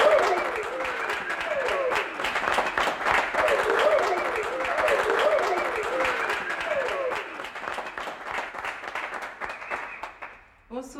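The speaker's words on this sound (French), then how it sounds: "Mesdames et messieurs, applaudissez très fort la dame de l'auberge du Salut." An audience applauding at an inn's stage show, a sustained burst of many hands clapping with crowd voices and music mixed in, gradually thinning out near the end.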